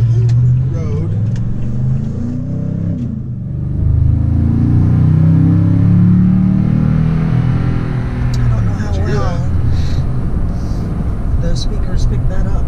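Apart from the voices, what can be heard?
Toyota Tundra engine accelerating while merging onto a highway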